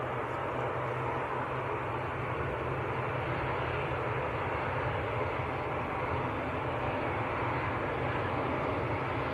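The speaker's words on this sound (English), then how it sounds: "Egypt Air, very nice, A321neo from Cairo" An EgyptAir Airbus A321neo jet airliner from Cairo roars past at Manchester Airport on a foggy day, a loud, sustained, even engine rumble and hiss with no voices over it.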